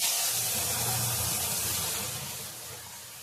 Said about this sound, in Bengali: আদা শুকনো লঙ্কা দিয়ে দিয়েছি, ডালটা ঢেলে দিলাম।